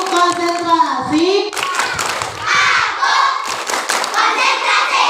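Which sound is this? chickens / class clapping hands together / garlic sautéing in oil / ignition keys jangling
class clapping hands together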